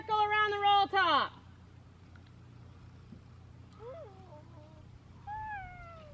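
During a horse-riding lesson, a voice imitates a cat's meow twice, first loud and drawn out, then softer after a pause, with background noise between.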